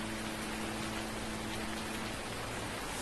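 Steady rain falls in Farming Simulator, a dense, even hiss of drops over a faint low hum, unbroken from start to finish.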